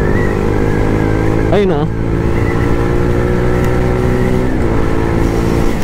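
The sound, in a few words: Yamaha MT-15 motorcycle engine accelerating on test ride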